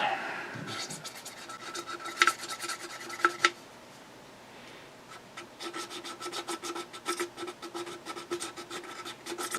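A bottle label is scraped to rub off marker writing, giving close rasping, scratchy strokes in quick bursts with a short pause midway.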